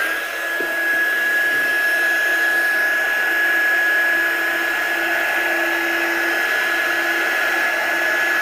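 A heat dryer blows continuously to dry dye spray on paper, a steady high-pitched whining hum with a constant airy rush, close and unbroken for several seconds with no talking.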